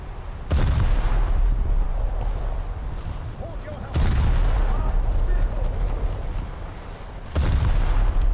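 Heavy naval gunfire in a warship video game, three deep booming main-gun salvos a few seconds apart, each with a rolling rumble that lingers, loud and close, with a voice talking underneath.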